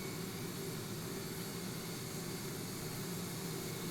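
Simulated jet engine of a Boeing 747-8 in X-Plane 11, heard from outside the aircraft as a steady, loud broadband roar with a low rumble, unbroken for the whole stretch and with no talking.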